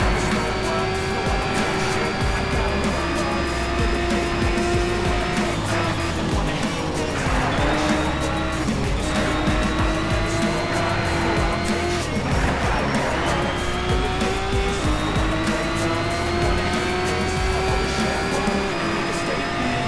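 A Nissan Skyline races a Mustang in NFS Shift, engines droning loudly and continuously, pitch climbing and dropping through gear shifts, with occasional tire noise. No one talks.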